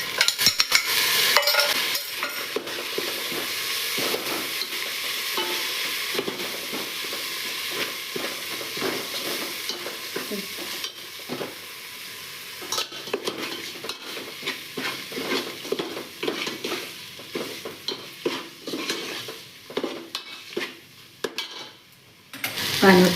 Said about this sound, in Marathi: डाळ टाकूया तुरीची.